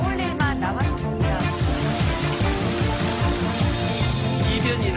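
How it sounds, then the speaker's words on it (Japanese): Light rain falling at dawn as clouds gather and the temperature drops, a steady, dense patter filling the whole stretch with no voices. "雲が集まってきて、夜明けから小雨が降って"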